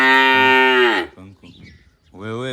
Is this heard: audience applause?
no